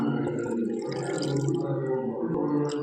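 Water added to lentils in a pressure cooker for cabbage sambar, a short close trickle and splash of pouring liquid with scattered drips, alone without talking.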